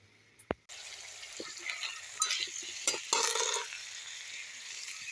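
Makhana sabzi ingredients frying in a kadhai over a medium flame, a continuous close sizzle broken by scraping spatula strokes and clinks, starting after a sharp knock.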